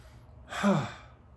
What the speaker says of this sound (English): Just deep inhales